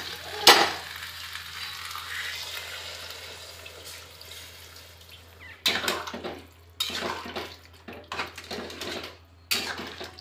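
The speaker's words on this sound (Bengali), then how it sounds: "এবার জলটা দিয়ে দিচ্ছি, কারণ এটা কষাটা হয়ে গেছে।" Potato curry with peas and tomato in a pan, the Bengali aloo dum, sizzling after water is poured in: a sharp splash at the start, then soft bubbling and a few louder bursts of stirring later on.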